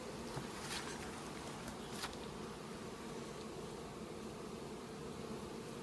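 A steady, dense buzzing of many honey bees fills the air, close and continuous, with no talking.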